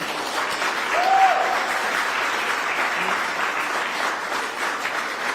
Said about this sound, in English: I want to give a special round of applause to our mayor, Malik Evans.